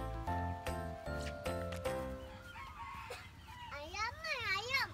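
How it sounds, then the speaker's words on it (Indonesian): Chickens clucking and a rooster crowing while children chase and catch them, rhythmic clucks early then rising and falling crow-like calls, close up with children's voices mixed in. "Tangkap ayam cepat."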